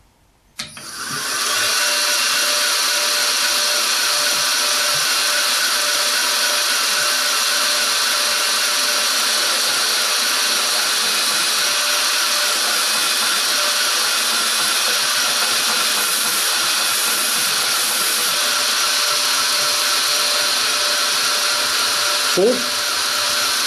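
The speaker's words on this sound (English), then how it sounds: "This is a 220 grit belt, by the way. This is what I'll use for hogging it out" Belt grinder running a 220 grit belt as a knife handle scale is ground down, a steady loud whine and abrasive hiss that holds for the whole stretch, with one short spoken word near the end.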